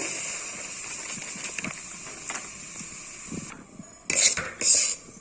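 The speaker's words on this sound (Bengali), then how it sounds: "সুজিটা এখন ভেজে নিচ্ছি দেখো" Semolina frying in ghee in a hot wok, a low sizzle under repeated metal ladle scrapes and clinks, followed by two louder clattering stirs near the end.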